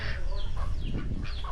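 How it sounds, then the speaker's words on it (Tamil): Farm fowl calling on a rural farm, a run of several loud, nasal squawking calls close by, repeated in quick irregular bursts with no talking. "வாத்து பாருங்கள் சூப்பராக இருக்குது."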